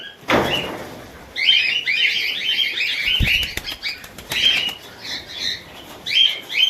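Pigeons flap their wings in repeated flurries, close by, with a few knocks and clatters mixed in.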